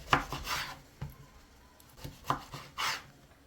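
A knife cuts through eggplant on a board in a few separate, fairly close strokes, each stroke a short soft crunch followed by a tap, with quiet gaps between them and no talking.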